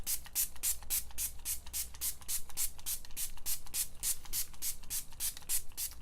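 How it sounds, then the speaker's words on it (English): Rapid bursts of a fine mist of Revolution Sports Fix makeup setting spray, about a dozen quick pumps in steady rhythm, close and crisp with no talking. "I'm just going to do my first layer of setting spray"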